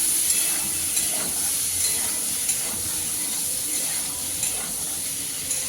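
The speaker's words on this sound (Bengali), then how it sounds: "সবজিগুলো প্রায় ভাজা হয়ে গেছে। বারবার করে কিন্তু নেড়ে দিতে হবে।" Vegetables, including cabbage, with boiled chickpeas and green chillies, sizzle steadily in a frying pan while being stirred, a continuous close hiss with faint scraping strokes and no talk.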